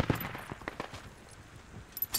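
Sharp gunshots crack close by in a military shooter game on the Al Basrah map, with a few scattered reports early, a quieter stretch, then a louder burst of shots near the end.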